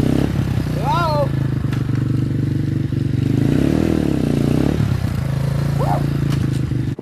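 A dirt bike engine runs steadily on a homemade redneck rope swing, a loud continuous motor drone with a brief rise in revs midway, while a voice speaks briefly over it.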